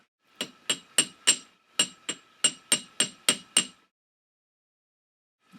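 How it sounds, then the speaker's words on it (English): A small goldsmith hammer taps a hinge pin on a handmade silver locket in a quick run of about a dozen sharp, bright metallic strikes in two bursts, close and loud, followed by silence and one final tap. "typically to set these pins, I'll use my little goldsmith hammer"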